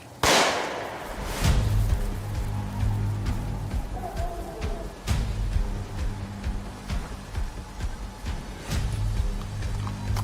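Several sharp pistol shots ring out at a target range in Sweden, spaced irregularly over a steady background, each a loud close crack.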